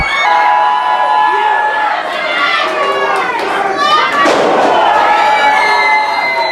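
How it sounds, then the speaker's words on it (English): A pro wrestling crowd screams and cheers loudly throughout, with many high shrieking voices rising and surging together near the middle, an excited arena roar heard alone without commentary. "And listen to the screams of adulation."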